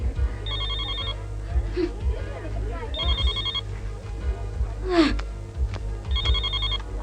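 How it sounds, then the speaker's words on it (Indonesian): A mobile phone rings in three repeating bursts of a bright electronic tone, heard beneath people talking nearby. "HP lo tuh, terima dong."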